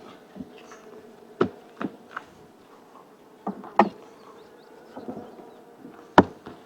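Honeybees hum steadily inside thriving hive boxes topped with supers in a Northern Michigan apiary, a close, continuous buzz broken by several sharp wooden knocks and clicks as frames and boxes are handled, with no talking.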